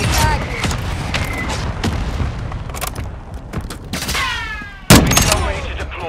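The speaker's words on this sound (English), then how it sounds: "Mortar strike on the way." Mortar strike detonations in a shooter video game: a run of sharp, booming blasts and crackling gunfire, with one especially loud close explosion near the end, while voices talk over the battle.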